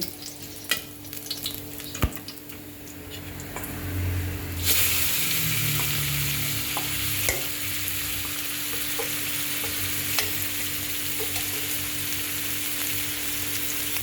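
Steady crackling sizzle of napa cabbage, shiitake mushrooms and minced pork stir-frying in a small pan, with a few sharp clanks of a utensil early on, then a continuous loud hiss.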